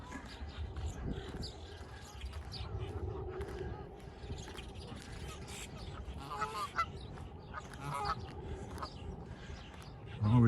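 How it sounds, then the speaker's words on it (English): Geese honk repeatedly by a lake in Regina, several calls at mid distance over outdoor ambience, with a person talking at times. "Always lots of birds here."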